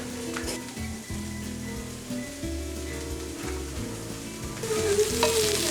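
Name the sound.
tortillas toasting in a hot pan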